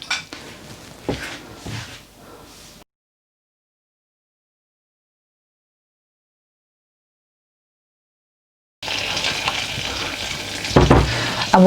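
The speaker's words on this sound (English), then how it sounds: "we're going to add our butter straight in and just let that melt" Butter melting in a hot pan for paneer tikka kebabs, giving a soft sizzle with light stirring and utensil clinks, interrupted by a long silent gap before the frying noise returns louder and fuller.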